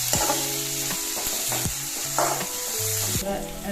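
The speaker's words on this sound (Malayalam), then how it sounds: "വലിയുള്ളിയൊക്കെ നന്നായിട്ട് ബ്രൗൺ ആവുന്നതിൽ നമുക്കിത് വഴറ്റി കൊടുക്കും." Onions sauté in a pan for egg masala, a loud steady sizzle broken by repeated scraping strokes of a stirring utensil, close up and without speech.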